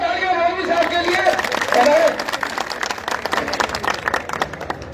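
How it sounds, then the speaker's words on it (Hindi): Loud crowd applause at a village public function in Parlika, honoring a Maulvi, with clapping mixed with crowd chatter and a voice over a loudspeaker, tapering off into scattered claps. "और जोरदार तालियां मौलवी साहब के लिए"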